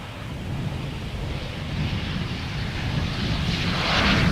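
A KLM Embraer 190 airliner arriving from Genoa at Amsterdam Schiphol gives a steady broadband jet roar that swells gently toward the end, with wind rumble and no talk.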